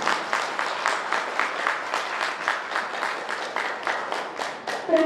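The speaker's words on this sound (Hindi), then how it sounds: "तो सबसे पहले दिल से हम इनके स्वागत के लिए जोरदार तालियां बजाते हैं।" An audience at a World Environment Day gathering claps in unison to welcome guests, a rhythmic, fairly loud beat of massed hand claps that keeps an even pulse throughout.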